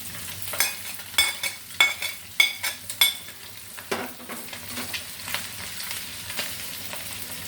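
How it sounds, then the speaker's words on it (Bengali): A spoon stirs fried onions into egg curry in a pan. Sharp, regular scraping clicks stand out close by over a soft steady sizzle, then ease into lighter stirring. "এখন এটা আমি এভাবে খুব নাড়াচাড়া করে দিব"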